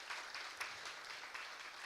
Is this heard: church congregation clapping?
yes